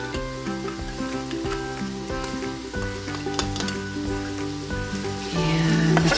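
Garlic dropped into a sizzling pan of softened green beans, a steady close sizzle with stirring and tonal kitchen hum, swelling louder near the end.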